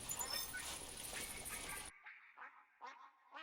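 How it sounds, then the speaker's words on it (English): Male northern pintail duck calls in the hunting game theHunter Classic: a few short, close quacking bursts after a loud stretch of game noise cuts off, spaced irregularly over a quiet background. "That was a northern pintail as a male."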